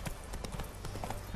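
Horse hooves clip-clopping in The Witcher 3: Wild Hunt, a steady, rhythmic run of close, even hoof strikes lasting just over a second with no talk over it.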